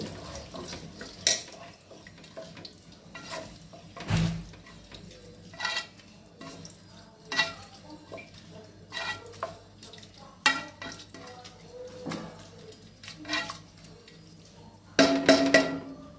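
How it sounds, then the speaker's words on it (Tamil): Spoon stirring salt into venn pongal in a pot, soft scraping and clinking strokes coming in separate bursts, close and quiet. "கொஞ்சமாக உப்பு தேவையான அளவு சேர்த்துக்கலாம் சேர்த்துட்டு நல்லா கலந்து விட்டுட்டு"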